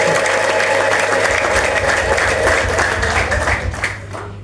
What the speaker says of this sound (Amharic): ጭብጨባ ይስጥ።